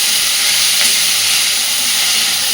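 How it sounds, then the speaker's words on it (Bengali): Potatoes and onions frying in a pan for a dish with ripe Malabar spinach fruit, giving a loud, continuous close-up sizzle and hiss with no voices over it. "খুব ভালোভাবে এবার আলু পেঁয়াজটাকে ভেজে নেব।"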